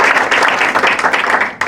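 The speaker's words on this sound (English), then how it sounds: "I want us to give a big hand of applause to all of these leaders" A crowd at a shareholders' training event in Pretoria applauds its leaders, a dense burst of many clapping hands at fairly loud volume that dips briefly near the end.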